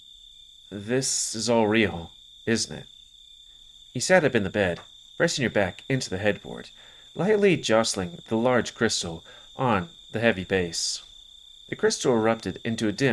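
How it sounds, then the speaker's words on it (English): A continuous high, thin cricket chirp from a nighttime video game scene runs steadily in the background while a person speaks over it in a calm narrating voice. "It's dark out. You can even hear the crickets chirping."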